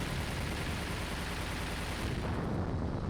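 Loud, dense rumbling explosions from the Sonic Adventure video game on Dreamcast, a continuous booming wash of blasts filling the whole span with no clear pauses.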